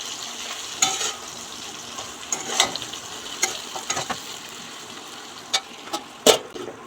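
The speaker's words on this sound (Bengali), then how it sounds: "হাফ চামচ ধনে আর হাফ চামচ জিরে গুঁড়ো দিলাম, দিয়ে একটু নাড়িয়ে চাড়িয়ে আবার ঢেকে দেবো" Coriander and cumin powder being stirred in a hot cooking pan: a low steady sizzle with scattered scraping strokes of a spoon against the pan and a few sharper clinks, fairly close, no talking.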